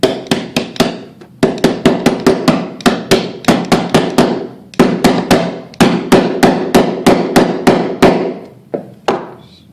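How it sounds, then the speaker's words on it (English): A hammer taps torso shims straight on a Stormtrooper TK armor build, striking in quick close bursts of sharp, ringing blows with short pauses between groups. "I get the hammer and I make sure these are straight first."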